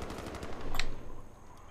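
Automatic gunfire in the video game Far Cry 5, a dense rattling burst that swells to a sharp crack near the middle and then trails off into a lingering rumble.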